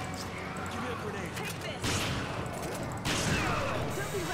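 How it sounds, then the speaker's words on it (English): Shotgun blasts from Resident Evil 5, two heavy booms about a second apart over a busy layer of game noise and chatter, with voices talking throughout. "I'm shooting you at point blank range with a shotgun"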